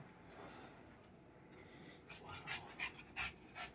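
A dog panting nearby during a home collection tour: soft, quick rhythmic breaths that grow into a few louder puffs toward the end, faint over a low room hum.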